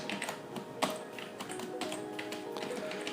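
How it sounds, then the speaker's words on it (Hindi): Quiet, rapid tapping on a computer keyboard during a maths lesson, an irregular stream of soft, close key clicks with a few louder strokes. "कीबोर्ड का बहुत शोर है"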